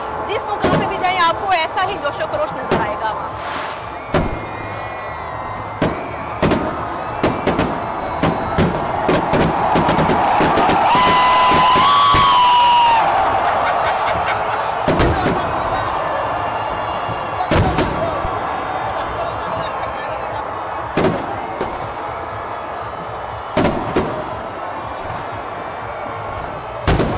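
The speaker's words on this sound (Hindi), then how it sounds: "पाकिस्तान में आतिशबाजी का सिलसिला जारी है।" Fireworks at Pakistan's 76th Independence Day celebrations at Minar-e-Pakistan in Lahore, loud booming blasts and cracks going off irregularly over a constant crowd roar, with a whistling rocket rising midway and a voice talking throughout.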